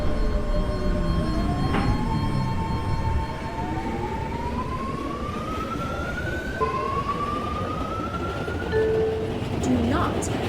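F line subway train in the game Rock Dove City pulling away after its doors close, a rising electric motor whine climbing in pitch over a steady rumble of wheels, loud and continuous.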